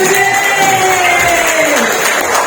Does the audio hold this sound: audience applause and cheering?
yes